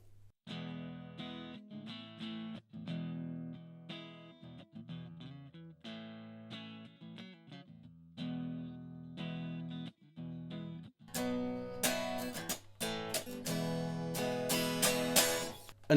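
Electric guitar through a Vox micro amp on the crunch channel, single notes and chords with a gritty edge, building into heavier, denser strummed chords toward the end.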